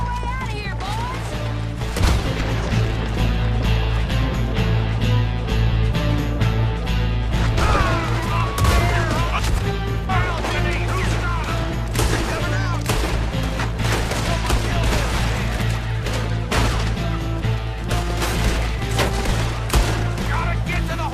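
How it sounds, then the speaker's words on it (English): Red Dead Redemption 2 town shootout: dense, continuous gunfire with rapid overlapping shots, crashes and impacts, loud and close throughout, with occasional shouted voices mixed in beneath the barrage. "We're shooting our way out of here, boys!"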